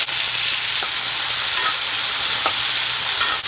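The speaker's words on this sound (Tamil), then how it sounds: "இந்த தக்காளி போட்டு நல்லா வணக்கி விட்டுறலாம்." Tomatoes sauté in hot oil in a pan while cooking garlic kulambu, giving a steady, loud sizzle with faint stirring scrapes and no talk.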